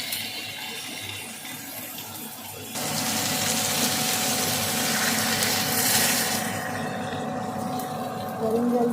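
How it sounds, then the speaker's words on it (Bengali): Hot water poured into a wok holding papaya and potato, a steady broadband pouring rush that starts abruptly a few seconds in and runs on continuously, fairly loud and close. "গরম জল দিয়ে দিলাম"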